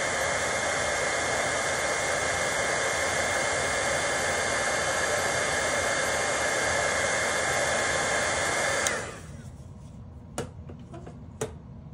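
A handheld heat tool blows hot air over embossing powder on a papercraft fold card, a steady loud whooshing roar that runs for about nine seconds, then cuts off, leaving faint room tone and a few light taps.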